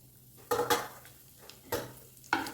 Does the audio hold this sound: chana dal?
yes